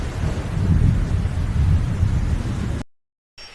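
Steady, loud rain with rumbling thunder sets a stormy scene in an animated children's story about a bird caught in the rain, then cuts abruptly to near silence for a moment before faint sound returns.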